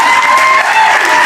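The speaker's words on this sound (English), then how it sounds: "We're going to do it with a big round of applause." A loud, close burst of studio audience applause on a game show, dense clapping sustained throughout with a faint undertone of crowd noise.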